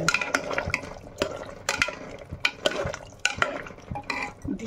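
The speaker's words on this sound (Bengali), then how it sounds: "এবার একটু নাড়িয়ে নেব" A spoon stirs chickpea masala with kasuri methi in an opened pressure cooker, giving repeated close wet scrapes and clinks in an irregular rhythm, with no talk.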